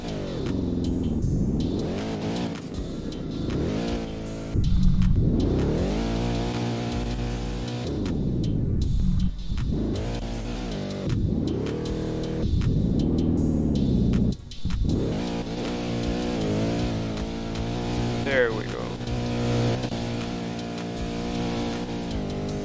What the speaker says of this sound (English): this car actually can do donuts